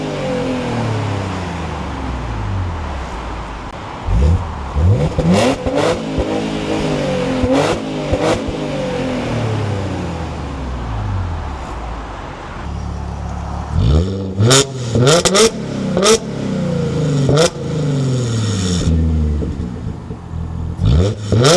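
A tuned Audi S4's exhaust is revved hard again and again, each sharp climb and drop of engine pitch loud and close, with a quieter idle between bursts and a fast run of stabs near the end.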